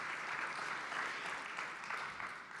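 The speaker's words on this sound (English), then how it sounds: "Let's give them a big round of applause because I think they deserve it" An audience at a boardroom sustainability event claps steadily in a sustained round of applause that holds fairly even before easing slightly at the end.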